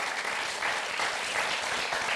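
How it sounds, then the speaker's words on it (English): Audience applause breaks out for a composer at a screen storytelling talk, a steady dense clatter of many hands clapping at close range with no voices over it. "can you please give round of applause?"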